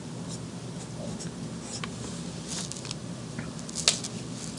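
Faint scratching strokes of a marker or chalk on a classroom board, a few irregular taps and scrapes over quiet room background with no talking.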